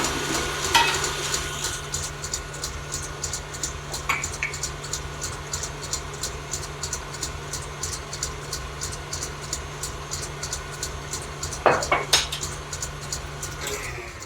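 Whisk beating thick cream toward soft peaks in a bowl, a fast steady metallic ticking that runs throughout over a low hum, with a few louder clinks against the bowl.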